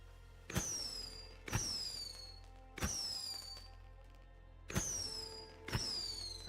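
Fireworks going off in State of Decay 2, five sharp bursts at roughly one-second intervals, each a bright crack with a fizzing, whistling tail, set against a steady low game hum.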